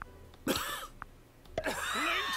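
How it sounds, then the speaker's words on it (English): A game character in Manual Samuel coughs and sputters after breathing in with a mouth full of water, two harsh bursts of coughing and throat clearing separated by a brief pause, close and fairly loud. "He has to cough."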